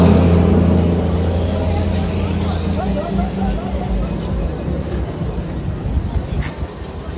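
A lineup of about fourteen or fifteen motorcycles rumbles and revs together in a continuous loud engine drone, with people talking over the noise.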